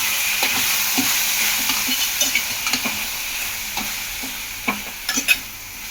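Vadiyala pulusu curry with salt just added sizzles and steams in a pan while a spoon stirs it, giving a steady hiss broken by rhythmic scrapes and taps, a few louder near the end.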